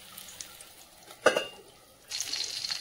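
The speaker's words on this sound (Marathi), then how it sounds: "आता मिरच्या मी प्लेटमध्ये काढून घेणार आहे" Fried green chilies lifted out of a pan onto a plate: soft sizzling in the background, a sharp clatter of utensil against the pan midway, then louder sizzling near the end.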